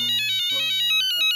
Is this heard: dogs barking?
no